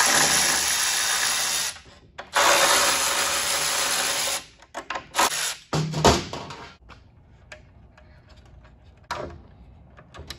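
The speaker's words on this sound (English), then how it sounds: "we need to remove all four bolts of the throttle body" Power tool driving out the throttle body bolts on a GM 5.3 L83 intake manifold, two long buzzing whirs, then short bursts, ratchet clicks and clatter of parts.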